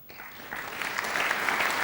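A snooker crowd at the 2013 Welsh Open final in Newport applauds, dense clapping that swells and grows louder over a couple of seconds.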